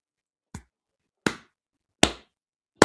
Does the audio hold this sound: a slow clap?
yes